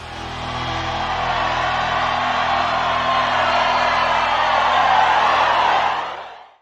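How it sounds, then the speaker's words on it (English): Concert audience roaring, a dense, sustained wall of cheering and whooping that builds steadily, then cuts off abruptly. "And the audience goes nuts."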